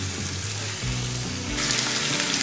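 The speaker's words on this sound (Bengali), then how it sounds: "এবার এই চিকেনটাকে এই পেঁয়াজের সাথে খুব ভালো করে কিন্তু ভাজতে হবে।" Chicken frying with onion paste in a pan over low heat makes a continuous close sizzle, with a tonal hum underneath and the hiss brightening and growing louder in the last second.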